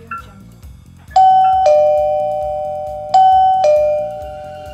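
A Mix box wireless doorbell with built-in camera rings with loud, clear two-tone ding-dong chimes, played twice in succession and ringing out close to the microphone over a soft, repeating electronic ringtone pattern.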